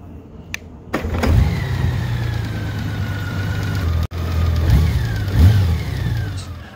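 A Honda Goldwing GL1800 motorcycle engine starts after a short crank and settles into a steady, close idle with a low hum, and a couple of brief throttle blips rise and fall.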